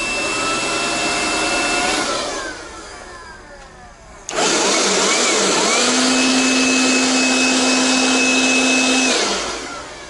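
A battery-powered leaf blower whirs steadily, dips briefly, then surges back to full speed with a high motor whine before winding down at the end.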